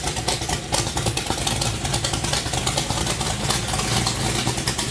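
A vehicle engine fitted with mufflers runs steadily at a muffled idle, a continuous close rumble with a constant level throughout and no talking.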